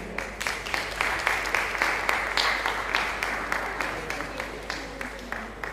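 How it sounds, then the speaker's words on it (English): A high school audience at a United Nations Day assembly applauding participants, a dense sustained round of clapping that fades gradually, with some crowd voices underneath. "Wow, give them a nice round of applause, man."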